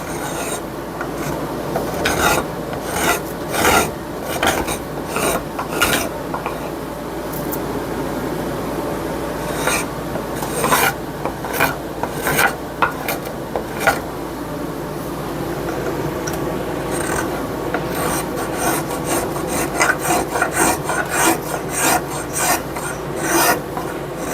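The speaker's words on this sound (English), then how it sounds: "I'm going to start shaping this handle." A wooden axe handle is shaped with a rasp in a workshop with a fan or air conditioner running: close, gritty scraping strokes come in quick irregular runs with short pauses throughout, and no one speaks.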